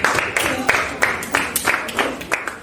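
Classroom students clapping for group 4 at the close of a group presentation, a brief round of loose, uneven handclaps at moderate level, with no voices.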